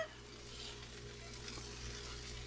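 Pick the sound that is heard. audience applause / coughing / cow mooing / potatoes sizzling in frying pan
potatoes sizzling in frying pan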